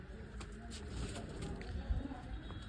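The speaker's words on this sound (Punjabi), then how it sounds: "ਕਬੂਤਰ ਆਈ ਜਾਉਂਗੇ ਬਾਹਰ ਤੇ ਨਹਾਈ ਜਾਉਂਗੇ" Pigeons cooing softly near rooftop coops being opened for their morning bath, low murmuring coos faint in the background with light rustling and occasional bumps.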